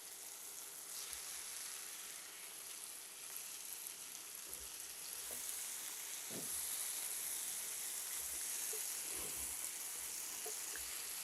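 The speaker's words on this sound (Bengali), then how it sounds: "এখন দিয়ে দেবো এই যে আলু ভেজে রেখেছিলাম আর বরবটিটা" Fried potatoes and yardlong beans added to tomatoes cooking in a pan, a soft, continuous sizzle with a couple of faint knocks as the vegetables go in.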